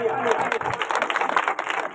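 Brisk clapping breaks out at a village welcoming ceremony where guests are honored with a traditional scarf, a crowd's scattered applause mixed with a voice speaking over it.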